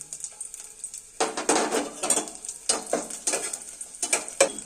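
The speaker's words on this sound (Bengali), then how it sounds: "তেলটা গরম হয়ে গেছে তেলের মধ্যে রসুনগুলো রসুন কুচনাগুলো দিয়ে দিচ্ছি" Chopped garlic sizzles in hot oil in a pan while being stirred for a soup. Bursts of crackling frying alternate with stirring scrapes, close and clear.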